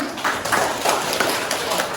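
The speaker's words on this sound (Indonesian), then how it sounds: "Kasih besar-besar tepuk tangan dulu" A classroom group claps hands together during a lesson, a brief burst of steady rhythmic clapping with faint voices underneath.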